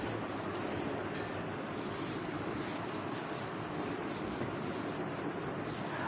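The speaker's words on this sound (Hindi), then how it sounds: "मैं इसको रब करता हूं" Continuous dry rubbing of an eraser or duster across a board to wipe off writing, a steady close scraping hiss that fills the whole stretch without a break.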